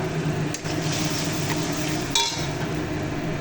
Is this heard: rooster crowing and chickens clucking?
no